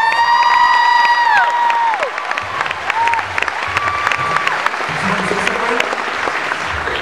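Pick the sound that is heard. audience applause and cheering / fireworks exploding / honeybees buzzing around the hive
audience applause and cheering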